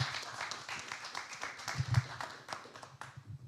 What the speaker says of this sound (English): Rounds of applause, please.